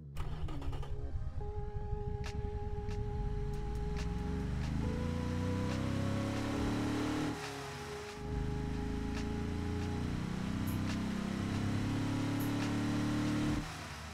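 A tuned 1970s stretch limousine engine in a video game runs and revs, its pitch climbing and shifting through several steady tones, dipping briefly midway before surging again, loud and close.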